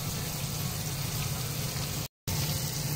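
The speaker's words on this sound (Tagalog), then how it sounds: "Tapos ipipirito." Tofu frying in a pan sizzles with a steady, dense crackle at close range, broken by a brief silent gap near the end.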